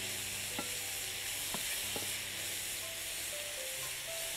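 Food sizzles and fries steadily in a non-stick pan while being sautéed, a continuous close hiss with a few light stirring knocks and no talking.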